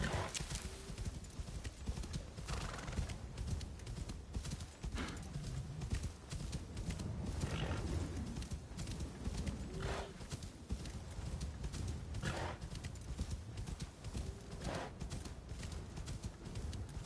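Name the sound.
horse trotting and whinnying in Assassin's Creed Shadows video game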